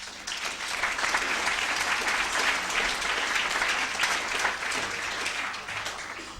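Sustained, dense audience applause greets a lecture speaker in a hall, a steady wash of many hands clapping that holds for several seconds before tapering slightly at the end.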